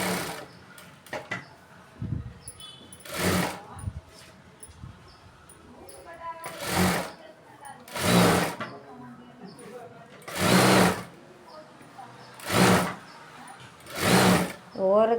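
A sewing machine stitches a seam on a blouse sleeve in six or seven loud bursts of a few seconds each, separated by pauses with fabric handling and a person talking.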